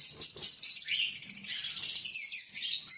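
Pet birds in a home collection chirp and tweet continuously, a dense overlapping chorus of high, bright calls held at close range with no talking.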